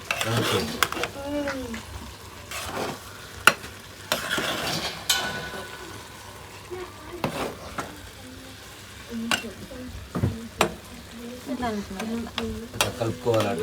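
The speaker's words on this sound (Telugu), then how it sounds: "కలుపుకోవాలి ఇట్లా కిందిది పైకి" Jeera rice stirred in a pan, repeated scraping and clinking of a spoon against metal over a soft sizzle, with someone talking intermittently in between.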